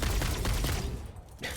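Rapid homing gunfire in the video game Satisfactory, a dense loud volley of shots that runs continuously and thins out near the end.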